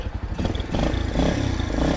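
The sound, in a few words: restored Yamaha Junoon 100cc motorcycle engine running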